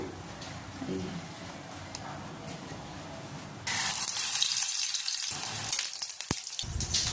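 Battered pumpkin flowers drop into hot oil for pakoda; a low murmur of room sound and faint voice gives way to a sudden, bright, crackling sizzle that stays close and steady.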